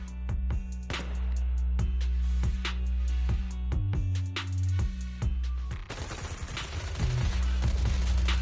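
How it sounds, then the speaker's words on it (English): Rapid bursts of gunfire crackle through a battle in the game Zenless Zone Zero, suppressive marching fire in sustained automatic volleys with sharp individual shots, loud and continuous over a low rumbling backdrop. "Gunfire? This pattern. Suppressive marching fire."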